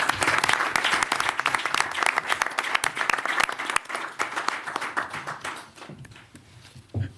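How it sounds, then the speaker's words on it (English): Audience applause at a New York City mayoral announcement on cluster housing, a dense burst of many hands clapping loudly and steadily, then thinning out and fading toward the end. "Let's give her a big round of applause."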